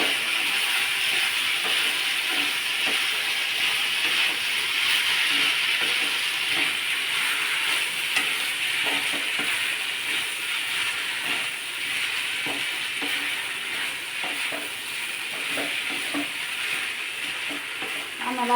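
Poha is being stirred into onion and garlic in a hot pan, giving a continuous sizzling, hissing fry with scraping stir sounds throughout, close and fairly loud.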